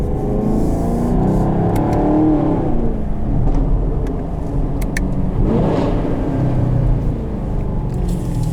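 A 2020 Chevrolet Camaro SS V8 rumbles loudly and steadily from inside the cabin, swelling as it revs and then easing back, with a constant low roar throughout.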